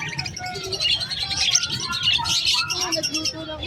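Crested pet birds at the Malabon pet market chirp and tweet steadily in a close, busy mix of calls, with dove-like cooing woven through, heard without any speech over it.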